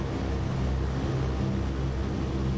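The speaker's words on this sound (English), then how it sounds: "the engine noise is the same whether it's open or closed" Steady aircraft engine drone from Microsoft Flight Simulator, a continuous low, even rumble with a broad airy wash, constant in level and close throughout with no talk over it.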